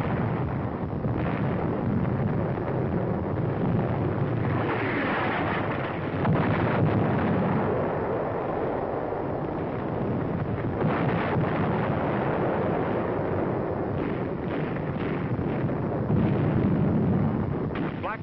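An artillery shell strikes an enemy 88mm gun position at the front in North Africa, giving a loud, continuous, muffled roar with heavy rumbling and repeated burst-like surges throughout.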